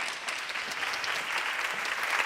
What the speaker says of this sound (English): give a big round of applause for her